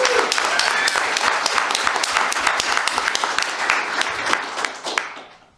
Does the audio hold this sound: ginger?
no